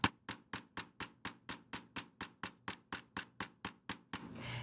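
A hammer strikes a metal square pendant in an even, rapid series of about sixteen sharp, ringing taps, each decaying quickly, followed by a short burst of noise at the end.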